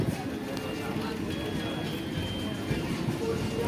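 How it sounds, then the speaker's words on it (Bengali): Local train slowly pulling out of Talpur Halt station, a low rumbling run of wheels and carriage noise heard from on board, with speech and background chatter over it. "ট্রেন কিন্তু আস্তে আস্তে বেরিয়ে যাচ্ছে।"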